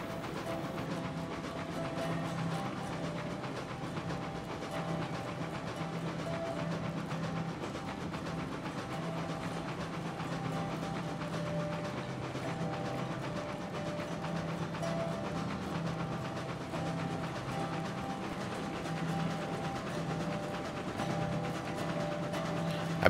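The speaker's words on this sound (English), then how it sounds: "And I can't stop this train very," A locomotive in the Railroads Online game runs steadily, with a continuous low engine rumble and faint rail clatter. No one speaks.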